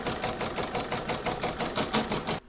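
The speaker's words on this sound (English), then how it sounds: "I'm now going to pop it into my machine and stitch around number 1," An embroidery machine stitches the outline of an in-the-hoop glasses case, producing a quick, steady rhythmic chatter of needle strokes up close for a couple of seconds before stopping abruptly.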